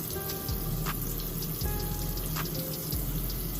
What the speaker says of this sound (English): Make sure you get your hair nice and wet.